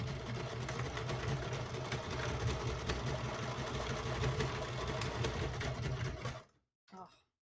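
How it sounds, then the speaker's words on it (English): An electric sewing machine runs steadily at close range as it stitches across the bottom of a handmade bag, a continuous mechanical whir with a fast rhythmic chatter, stopping abruptly near the end before a brief final burst. "I'm gonna sew across the bottom here."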